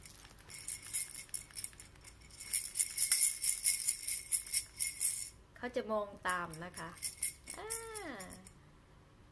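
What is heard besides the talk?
baby toy that makes sounds, shaken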